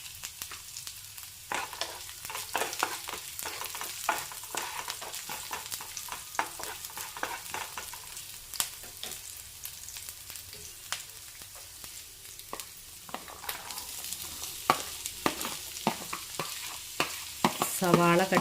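Ginger, garlic and green chili frying in a pan while being stirred, a soft sizzle broken by frequent spatula scrapes and taps against the metal, steady throughout with no voices.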